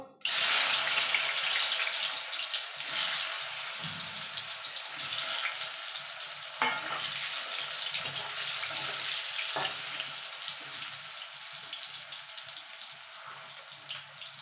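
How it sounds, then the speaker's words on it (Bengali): Potatoes frying in hot oil in a wok give a continuous hissing sizzle with occasional sharper crackles and pops, heard close and steady throughout with no voices. "এবার আলুটা আমি ভেজে তুলে নেব।"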